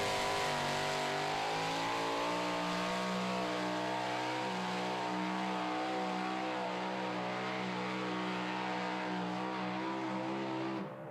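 Super stock diesel and super modified 2wd pulling trucks roar continuously at a desert truck pull, a loud sustained engine drone with steady harmonics that fades slightly at the end.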